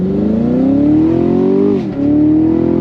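2021 Chevy Camaro Shock & Steel Edition accelerating hard with the top down, a loud engine note climbing steadily in pitch, a brief dip at a gear change, then rising again.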